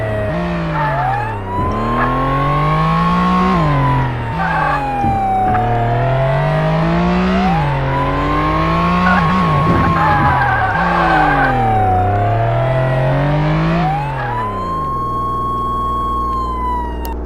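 A car in a video game roars with its engine repeatedly revving up and dropping, tires skidding and squealing in between, loud and continuous with a siren-like wailing tone.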